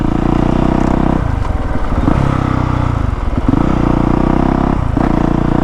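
A 2019 Honda CRF450R dirt bike engine runs loud and close, with a steady throaty drone that dips and rises through throttle changes and gear shifts.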